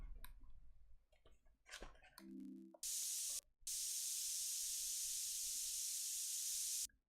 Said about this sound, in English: The spray paint sound is pretty funny.